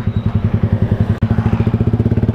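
A motorcycle engine running close by, a loud, rapid rhythmic thumping exhaust pulse with a brief dip midway before the steady beat resumes.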